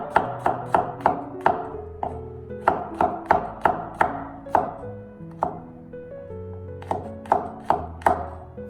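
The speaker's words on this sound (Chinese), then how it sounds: "接下来准备几粒去皮的大蒜，用刀切成薄片" A knife slices peeled garlic cloves into thin pieces on a cutting board, giving a quick run of crisp, close taps in bursts with brief pauses between them, heard alone without any voice.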